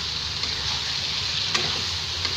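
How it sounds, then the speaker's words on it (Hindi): Ground black chickpeas stir-fried in a pan, giving a steady, close sizzle with soft scraping from constant stirring and a few brief clicks of the spatula. "अब इसको लगातार चलाते हुए भूनेंगे"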